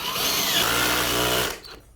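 A handheld power drill runs at steady speed for about one and a half seconds while an airbrush case is being set up, then spins down and cuts off near the end.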